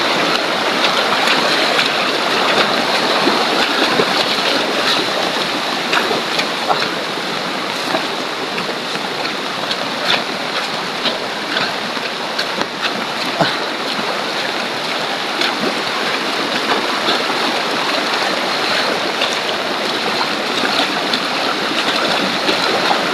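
A stream rushes hard during heavy rain, a loud, dense and constant wash of water with no pauses.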